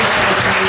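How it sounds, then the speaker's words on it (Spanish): Church congregation applauding together after a prayer, a dense, steady clapping that fills the space for a brief moment without any voices. "¿Puede darle un aplauso a Dios?"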